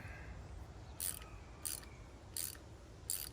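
A bolt being turned on a fuel tank strap support, cutting new threads, gives four short, sharp ratcheting clicks spaced about half a second apart over a low steady background rumble.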